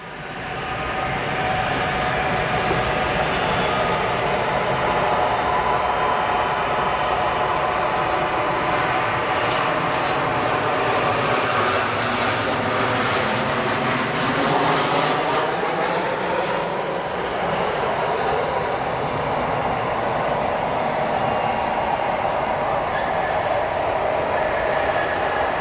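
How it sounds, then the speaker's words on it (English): American Airlines jet landing at Chicago O'Hare airport, a steady loud engine roar lasting throughout that swells toward the middle and eases slightly afterward, heard from a distance with no talk. "Nice firm landing."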